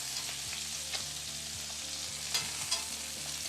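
Bacon crackles and sizzles in a cast iron skillet, a faint steady frying hiss with occasional sharp pops and light utensil knocks.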